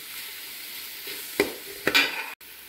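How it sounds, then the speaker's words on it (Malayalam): Chicken curry masala sautés in a pan with a steady close sizzle, broken by two quick scraping stirs of a spoon before the sound cuts off abruptly. "ഇത് നല്ലോണം ഇളക്കുക"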